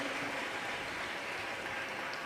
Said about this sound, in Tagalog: Malakas sa palakpak para sa ating dakilang Diyos.